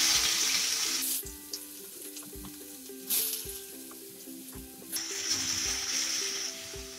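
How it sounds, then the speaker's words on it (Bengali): Chopped onion sizzles and crackles steadily in hot oil in a home kitchen pan for a small puti fish curry with fried aubergine, a close, continuous frying hiss with faint utensil clinks and no talk. "পেঁয়াজটা একটু ভালো করে ভেজে নেব,"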